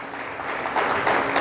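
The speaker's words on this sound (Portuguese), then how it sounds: "Pode aplaudir se você quiser." A church congregation breaks into applause during a Portuguese-language sermon, a dense wash of clapping that swells slightly over a short moment, with a faint voice underneath.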